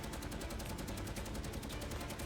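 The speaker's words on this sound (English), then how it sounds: "The FW-190s shoot their 20mm cannons and machine guns" Rapid, dense bursts of WW2 FW-190 fighter 20mm cannon and machine gun fire rattle continuously, a harsh steady staccato throughout.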